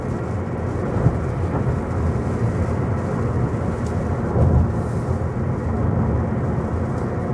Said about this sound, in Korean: 오늘은 비가 오고 있습니다.